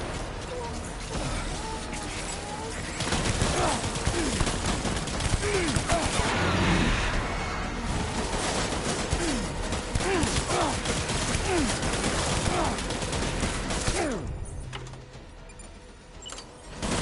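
Gunfire in the video game Death Stranding, a run of bursts and mechanical clatter rising midway over a steady background bed, then fading out near the end.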